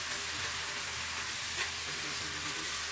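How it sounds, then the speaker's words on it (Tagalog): Chicken bones sautéing with aromatics in a hot pan give a steady, close sizzle and crackle throughout, with faint stirring and no voices. "Igigisa na rin po natin yan kasama ng ating mga sangkap."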